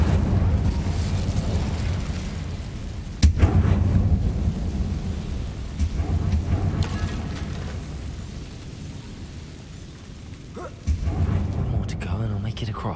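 Fiery Incendio spell blasts boom in a Harry Potter game, heavy rumbling bursts with a couple of sharp louder hits, heard under a person talking throughout.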